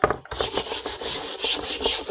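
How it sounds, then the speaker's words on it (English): Rhythmic scrubbing strokes, a bristly rasping rub repeated quickly back and forth, close and fairly loud, with no talking over it. "hope you can bear with me through the scrubbing and stuff"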